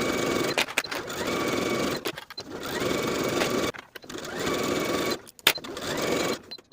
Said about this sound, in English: Then I'll sew my side seam with my seam allowance of 5/8 of an inch from top to bottom